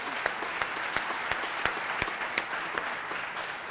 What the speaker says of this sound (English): we've already given them rounds of applause